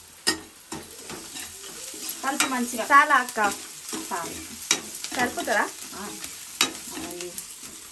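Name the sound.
tempering (talimpu) sizzling and being stirred in a pan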